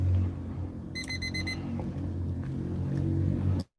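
A brief high electronic alarm tone beeps in a quick repeated burst over a steady low rumble, sounding somewhat distant.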